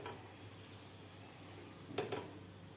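Paratha roasting in a pan over medium gas, a soft steady sizzle with faint crackle throughout and a brief louder scraping burst near the end.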